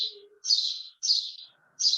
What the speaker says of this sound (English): There are loads of birds roosting right above me.